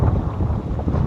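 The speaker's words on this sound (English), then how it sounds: "I know that wind is kind of loud." Strong wind gusting over a lake cove on a bass fishing outing, buffeting the microphone with a loud, continuous low rumble and no voices.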